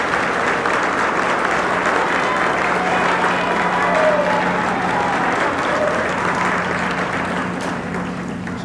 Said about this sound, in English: I think y'all give her applause.